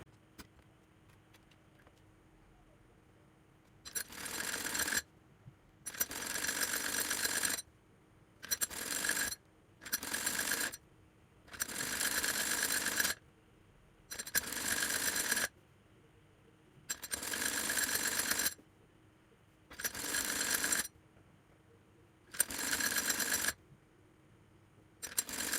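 A sewing machine stitches the narrowly folded cuff hem of a bell sleeve in nine separate bursts of rapid mechanical chatter, each lasting one to two seconds with quiet pauses between, close and loud, with no talk.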